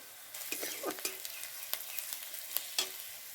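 Chopped onion with turmeric and cumin powder fries in a pan for homemade wheat-flour chow mein, a soft steady sizzle broken by several light scrapes and taps of a stirring spoon, with no talking.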